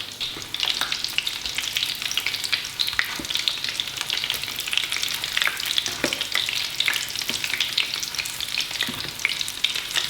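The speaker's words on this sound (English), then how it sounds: "So these Scotch eggs have been cooking for about 6 to 7 minutes in the vegetable oil." Scotch eggs frying in vegetable oil, a steady close sizzle and crackle that runs continuously with occasional small pops and stirring sounds, no voices.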